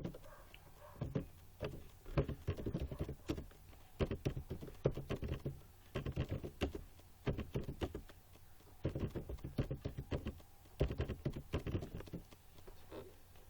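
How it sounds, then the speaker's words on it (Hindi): Typing on a computer keyboard comes in bursts of rapid, close key clicks separated by short pauses, quiet and with no talking. "तो आइए हम यहाँ पर मैटर को टाइप कर लेते हैं।"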